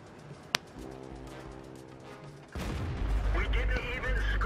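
Tank cannon fire in World of Tanks: one sharp, loud shot stands out near the start, followed by a rumbling engine and battle noise that swells in the second half.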